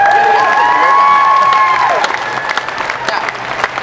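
A lively audience at a magic show claps and cheers after a trick, bright and energetic at first, then settling into scattered clapping with some voices mixed in.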